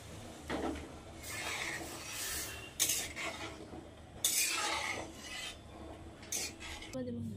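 Peas are stirred into a cooked spice mix of ginger, garlic and cumin in a pan, making repeated close scraping and rasping strokes with brief pauses between them.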